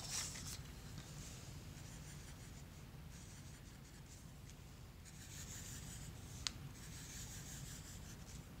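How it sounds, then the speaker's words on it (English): A pen or brush drawing a squiggly line on paper, a quiet, steady scratching rub that continues for several seconds, close and soft with no voices. "You make a squiggly line, and then you make one that curves"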